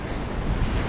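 Strong wind and crashing sea waves on a beach make a steady, loud roar, with gusts buffeting the microphone throughout.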